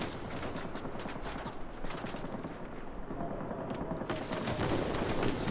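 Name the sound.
gunfire from warplane in video game World of Warplanes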